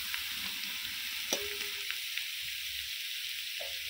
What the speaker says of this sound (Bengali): হালকা করে ঝিঙেটা আলুর সঙ্গে ভেজে নেবো